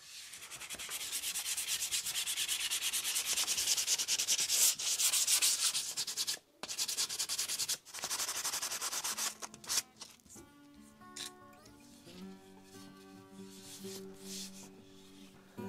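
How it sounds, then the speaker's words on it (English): An axe handle is hand sanded with 220-grit sandpaper, giving a continuous close rasping rub that breaks off briefly twice. A faint tonal background rises near the end as the sanding thins out. "I'm gonna go ahead and finish everything off with 220 piece of sandpaper and work it all the way around."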